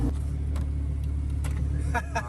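A Lamborghini Huracan Evo engine rumbles steadily close by after starting, a low continuous drone with a few brief sharper blips near the end.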